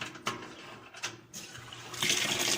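A Whirlpool washing machine fills with water, rushing in bursts that swell louder toward the end, heard close up with no talking.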